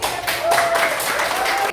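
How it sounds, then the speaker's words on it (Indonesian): Students in a classroom clap together after group presentations, a full, continuous round of applause that stays loud and even before stopping abruptly. "Tepuk tangan."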